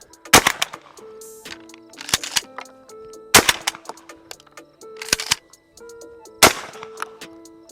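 Five loud, sharp shotgun blasts from a Retay Gordion semi-automatic field shotgun firing target loads, spaced roughly one to one-and-a-half seconds apart, each with a brief echoing tail and clanking action noises between shots.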